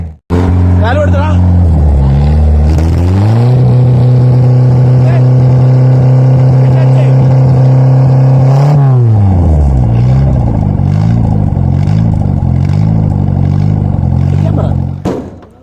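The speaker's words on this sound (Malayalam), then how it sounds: "വണ്ടിയുടെ സൗണ്ട് നോക്കുന്നത് കേൾക്കാം" A modified Maruti Gypsy engine fires up from cold and idles roughly, then revs up to a steady high drone for several seconds before dropping back to a lumpy idle, loud and close throughout.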